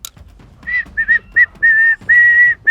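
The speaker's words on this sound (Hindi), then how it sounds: "दिक्कत क्या होती, सीटी तो बजाऊं" A person whistles a short tune outdoors in a village setting, a series of loud, clear sustained notes with brief gaps, close up and without talk.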